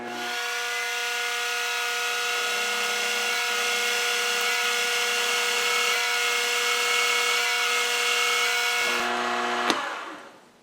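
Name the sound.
power drill drilling a hole in a lathe spindle spider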